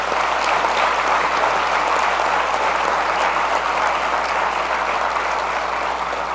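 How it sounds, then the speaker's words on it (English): Guests at the Saints Hall of Fame induction luncheon give a big round of applause, steady and full throughout with no talking over it. "So please give Mickey, Gail, Dennis, Greg Bensel a big round of applause."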